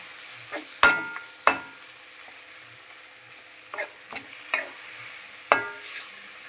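An onion masala with curd sautés in a pan for a gravy, a faint background sizzle punctuated by a handful of sharp spoon taps and scrapes spaced a second or so apart.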